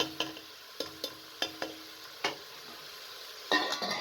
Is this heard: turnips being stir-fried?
yes